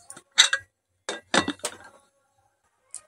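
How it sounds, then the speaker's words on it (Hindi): Several sharp metallic clinks and clatters of a lid settling onto a pot of corn, in quick bursts with short pauses, then a faint final tap. "ढक्कन बंद कर दिए हैं"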